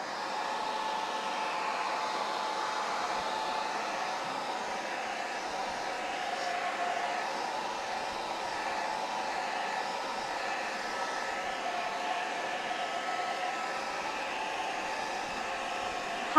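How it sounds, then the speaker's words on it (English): A blow dryer runs steadily and close by, drying paint on an upcycled glass bottle, a constant even whoosh that holds for the whole stretch without pause or voices. "now I'll just use the blow dryer again to dry off this part quickly"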